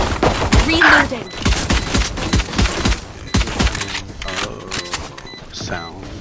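Rapid gunfire crackles in the Valorant video game as repeated sharp shots in bursts, loud and close, with game effect sounds and a player talking between them.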